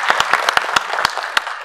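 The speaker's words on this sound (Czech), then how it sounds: "Tak teď se čeká aspoň malý potlesk" Sparse, hesitant applause from a small audience at a Czech product launch for the DJI Phantom 4 drone, a handful of distinct individual claps scattered over a thin patter of hands, fairly close.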